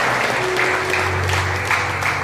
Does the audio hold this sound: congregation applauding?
yes